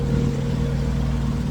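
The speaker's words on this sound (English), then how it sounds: "it's a little loud from the other trucks" Diesel trucks idle nearby at a truck stop, a steady low engine rumble with a constant hum that holds evenly throughout, with no talk over it.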